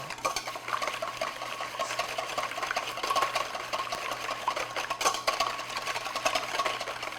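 Wire whisk beating eggs in a mixing bowl for a chocolate apple cake, rapid continuous metallic clicking and sloshing close by, with no talking.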